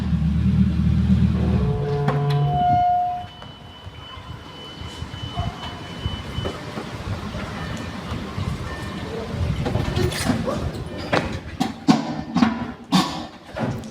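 A Lamborghini being parked, its engine rumbling loudly at first, then dropping to a lower, uneven running sound amid scattered clunks and bumps, with brief sharp knocks near the end.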